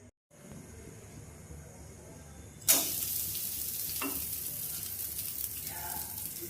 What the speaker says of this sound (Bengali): এই ঘিয়ের মধ্যে আমরা গোবিন্দভোগ চালটাকে ভেজে নেব।